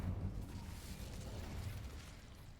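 An Incendio fire spell blast in Hogwarts Legacy, a soft, muffled whooshing burst with a low rumbling body that stays fairly steady for a couple of seconds before easing off, quiet overall.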